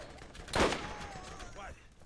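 A single sharp gunshot from the video game Borderlands, a loud broadband burst near the start followed by a fading tail, with game ambience underneath.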